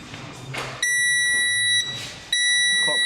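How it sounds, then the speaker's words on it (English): Dashboard warning chimes on an ex-WTCC/BTCC SEAT Leon race car with a 1.9 PD engine, fitted without a downpipe, beeping loudly in long steady high tones at first engine start, with brief gaps, over low engine rumble. "clocks are beeping like mad at us."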